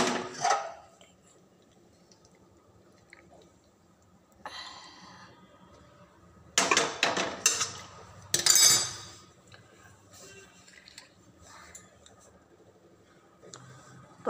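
A cooked potato, tomato and broccoli curry is served out of a pan with the gas switched off, making a few sharp metallic clinks and scraping clatters in short bursts. Quiet gaps fall between them, close by and with no talk.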